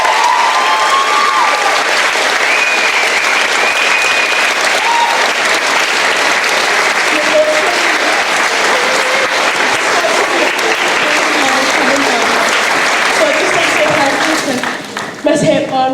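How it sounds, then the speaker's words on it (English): An audience at a Christmas concert gives sustained, loud applause that fills the room for about fifteen seconds, a dense steady clapping that thins out at the very end, with faint crowd voices mixed in. "I feel like they deserve an even more special round of applause"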